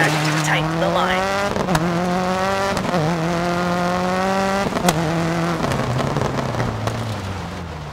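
A rally car in the DiRT 4 video game revs hard and shifts repeatedly, pitch rising and dropping through several gear changes with tire squeal, while a voice talks over the engine.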